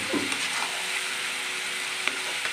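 Masala spices sautéing in a pan give a steady soft sizzle, with a few light scrapes and taps of a spoon while being stirred for a potol chingri (pointed gourd and prawn) dish.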